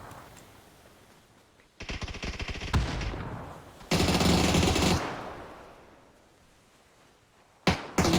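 Bursts of MP5 submachine gun fire in a 3v3 competitive shooter match, a rapid automatic volley followed by a second longer burst and a short final rattle, loud and close with no talk over it.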